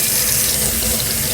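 Water running from a tap steadily and loudly while hands are washed to remove latex paint, a close continuous splashing rush.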